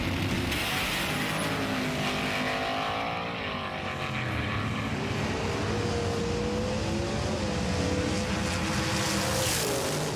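A Chevrolet and a Mercedes-Benz make a drag racing run, their engines droning hard with rising and shifting pitch as the cars pull through the gears, heard at a distance without any talking.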